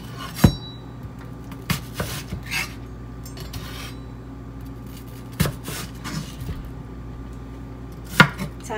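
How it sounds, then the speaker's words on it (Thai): Several sharp knife chops through watermelon on a cutting board, spaced irregularly with pauses between strikes, close and fairly loud over a quiet kitchen background. "การหั่นแตงโมก็แล้วแต่บ้านนะ"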